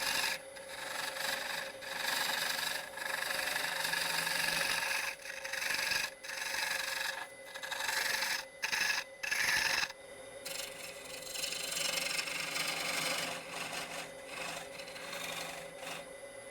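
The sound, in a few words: bowl gouge and skew chisel cutting tenon on wooden bowl on lathe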